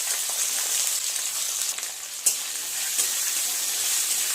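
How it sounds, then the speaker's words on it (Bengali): Cauliflower and other vegetables frying in oil in a pan give a loud, steady close sizzle, with a few soft stirring scrapes and knocks breaking through midway and no talking. "সবজি ডালে সবজিগুলো কিন্তু ভালোভাবে ভাজা করতে হবে"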